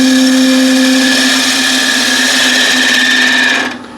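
Wood lathe spinning an enclosed wooden vessel while its rim is trued up, a loud steady motor whine with a constant tonal hum, running alone and then cutting off and winding down at the end.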